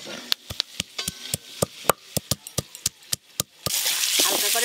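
Vegetables and potatoes lightly frying with ginger and spices in a home kitchen pan, a run of sharp clicks and knocks from stirring over a soft sizzle that swells louder near the end.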